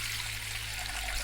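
Water trickles steadily into a cooking pot being readied for steaming millet dumplings, a soft continuous pour with a low hum beneath, close by and with no talk.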